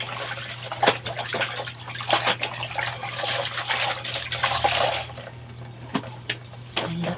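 Water splashes and sloshes in a basin with irregular drips and swishes, close by, as laundry is rinsed by hand at 2 a.m.; a low steady hum sits underneath.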